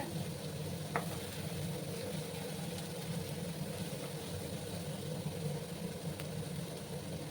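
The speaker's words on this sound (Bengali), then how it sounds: "ভালো করে আমি এবার কষিয়ে নেব যতক্ষণ না আদা রসুনের কাঁচা গন্ধটা যাচ্ছে" Chili, ginger and garlic paste sautés in a pan with a steady, close, moderate sizzle under a low background hum, with one brief clink of a utensil and no voices.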